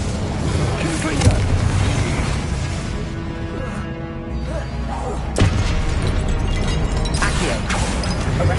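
A Confringo fire spell in Hogwarts Legacy on PS5 bursts with booming blasts over a dense, loud game soundscape, with sharp impacts near the start and middle amid continuous rumbling effects.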